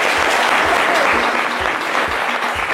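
Loud, dense audience applause fills the room at a French live show, steady and sustained throughout, with a faint voice underneath.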